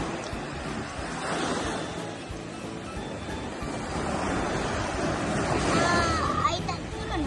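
Sea waves wash up on a beach in a continuous rushing surf that swells and recedes, loud and close, with wind buffeting the microphone and faint voices in the background.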